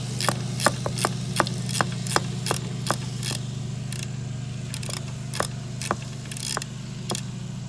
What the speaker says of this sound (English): need the ratchet again.